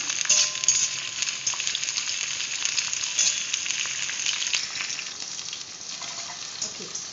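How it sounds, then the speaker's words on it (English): Beans frying in oil until half done for a veg jalfrezi, a dense, even crackling sizzle that stays loud and close throughout, slightly easing toward the end, with no talking. "So we just fry it till it's half done"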